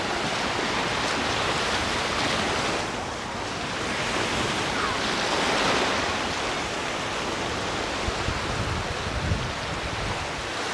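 Sea waves at Alcúdia Port beach in Mallorca, heard as a steady, loud wash of surf with wind buffeting the microphone throughout.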